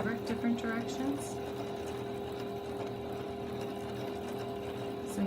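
A sewing machine fitted with a free-motion quilting foot stitches along the outer edge of a fabric piece, a steady low mechanical whir running throughout beneath a voice speaking close by.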